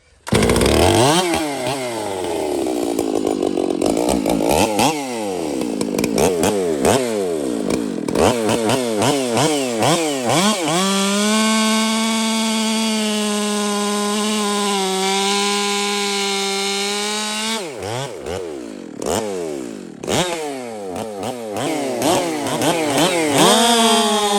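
A custom nitrous-powered 460N chainsaw with a richened carb runs loud and close, revving up and down repeatedly, then holds a sustained high scream before revving again.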